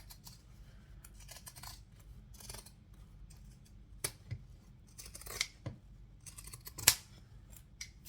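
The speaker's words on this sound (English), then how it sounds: "depending on your scissors, that might make them cut better or it might make them cut worse" Scissors snip through layers of dress fabric and interfacing in a series of separate, crisp cuts, the sharpest one near the end, with no voices over the quiet room hum.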